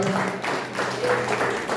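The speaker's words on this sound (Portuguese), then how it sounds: "As palmas louvem ao Senhor Jesus, aleluia." A church congregation claps hands in praise during a Portuguese-language worship service, a steady rhythmic patter of many palms that continues without letup.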